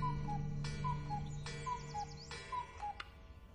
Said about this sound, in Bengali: দেয়ালে একটা কুকু ক্লকে খুক খুক করে 4টে বাজলো